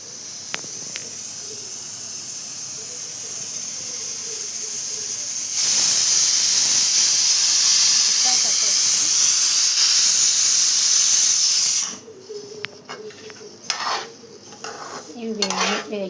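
A pressure cooker on a home kitchen stove hisses with steam, swelling into a loud, sustained whistle-like rush that runs for several seconds, then cuts off abruptly, leaving quieter clatter and rustling of pots and utensils.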